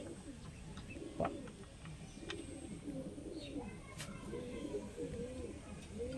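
A Madrasi flying pigeon coos in soft, rolling low phrases repeating throughout, close by, with a few faint chirps and a sharp tap partway through.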